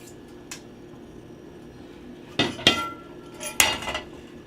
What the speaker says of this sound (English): I'm going to put the top on it.